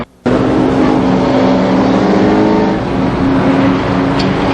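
Race cars roar around the Columbus Motor Speedway oval at a 1990 Superstar Shootout event, a loud, sustained engine drone that rises abruptly after a brief silent start and stays dense with no voices.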